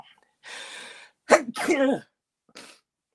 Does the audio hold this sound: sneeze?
yes